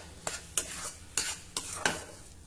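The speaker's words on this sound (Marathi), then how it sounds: "आता मंद आचेवर आपल्याला हे परतून घ्यायचे आहे, कारण मटारही कच्चे आहे।" Pea mixture frying over low heat in a pan, stirred in five distinct scraping strokes about half a second apart, each with a soft sizzle, close and fairly quiet with no talk.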